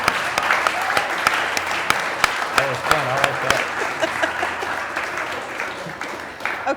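Audience applause for Nick Friedman at a Startup Grind Tampa Bay event, steady crowd clapping throughout with a few sharper claps standing out and faint voices mixed in.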